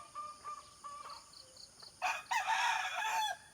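A rooster crows loudly and nearby, after some quieter clucking calls from chickens.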